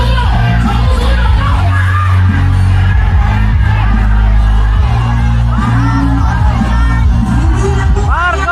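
A dense rally crowd at EDSA shouts and yells continuously, a loud, unbroken roar of many voices with whoops and chanting, music and an amplified voice mixed in.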